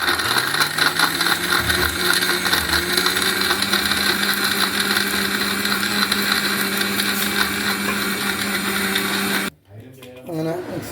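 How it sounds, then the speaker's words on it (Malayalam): A mixer grinder whirs loudly and continuously as it blends a milkshake, a steady high-pitched motor whine that cuts off abruptly near the end, followed by a person talking. "അങ്ങനെ മിക്സിയിൽ അടിച്ചെടുത്തു"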